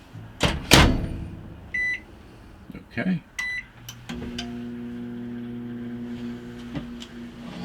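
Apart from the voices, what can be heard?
microwave oven running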